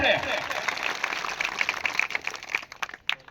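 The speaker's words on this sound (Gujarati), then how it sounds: "ત્યારે જોરદાર તાળીઓ પાડી આપણે" Applause from a crowd gathered at a Bhil community wedding-rules meeting, a dense patter of clapping that carries steadily for a few seconds, then breaks into scattered claps and fades.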